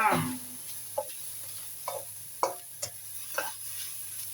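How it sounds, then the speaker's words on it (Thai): Red pork filling stir-fried in a pan: a soft sizzle underneath with five or six distinct scraping stirs spaced about half a second apart, close and clear, no voices. "เราจะผัดไส้ก่อนนะคะ"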